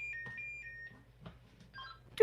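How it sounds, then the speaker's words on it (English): A radio's emergency alarm sends an alert tone: a few faint, clean electronic beeps in a quiet room, ending in a brief louder click. "I accidentally set off the emergency alarm. Oops. What does that do? Just sends an alert tone."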